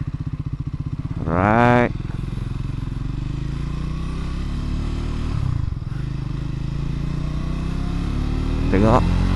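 A Triumph Scrambler 400X motorcycle engine runs with a steady low throb, revving up sharply once early on and again briefly near the end, while someone speaks a word over it.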